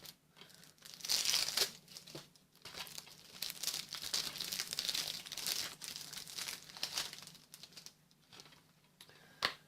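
Plastic shrink wrap crinkles and tears as it is peeled off a Euro Truck Simulator Gold Edition game box, a close, steady run of crackling and rustling with brief pauses, no talking.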